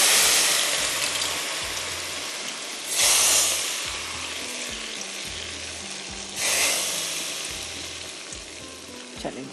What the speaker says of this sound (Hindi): इसके अंदर डालेंगे गरम गरम शाहताज कुकिंग ऑयल का लगाएंगे तड़का